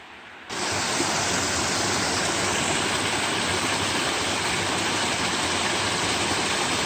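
Amadahy Falls in Rendezvous Mountain Educational State Forest, North Carolina, roars in a loud, unbroken rush of falling water that begins abruptly and holds steady close by.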